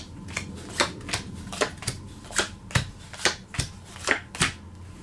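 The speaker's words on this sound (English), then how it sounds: "you're going to deal all players 2 down cards and 2 up cards." Playing cards dealt one by one onto a poker table for seven card stud, a crisp snap or flick every half second or so, close and clear with faint room noise between.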